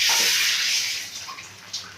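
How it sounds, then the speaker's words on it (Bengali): Bowl-rinsing water poured into a cooking pan during preparation of a Bengali potol posto, a loud hissing splash that gradually tapers off over about two seconds. "বন্ধুরা, এই বাটি ধোয়া জলটাও আমি দিয়ে দিলাম।"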